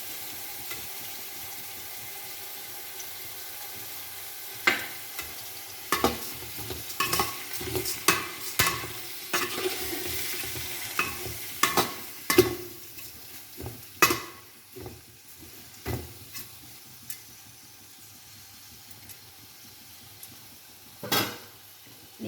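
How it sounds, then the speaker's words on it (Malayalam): Ingredients for chicken mandi are stirred and mixed in a pan, with irregular spoon clinks and scrapes against metal over a quiet background sizzle, busier in the middle and sparser toward the end. "ഇതെല്ലാം ഒന്ന് നന്നായി മിക്സ് ചെയ്യാം."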